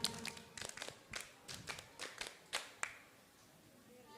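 A group in a classroom Arabic grammar game claps a rhythmic 'tepuk 5' pattern twice. The sharp, crisp claps come in two quick, distinct phrases, followed by quiet.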